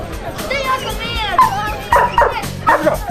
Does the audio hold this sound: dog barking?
yes